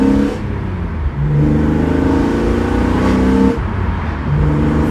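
A BMW E46 M3 engine accelerates in second gear around 3,000 RPM, a loud, close, rising mechanical drone with a brief dip as the revs shift. It is heard alone, with no talking.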